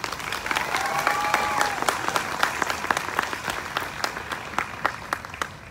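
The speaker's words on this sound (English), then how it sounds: "can we please give them another huge round of applause?" Sustained audience applause for contestants at the 2024 Mendota Sweet Corn Queen pageant, dense steady clapping with sharper individual claps standing out, moderately close and continuing throughout.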